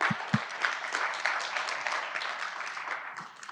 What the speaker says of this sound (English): Could we give a round of applause?